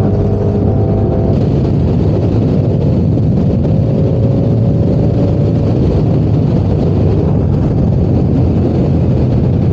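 A Ducati Diavel V4 2023 motorcycle rides along with a steady, loud roar of engine and rushing wind that holds constant throughout, with no voices.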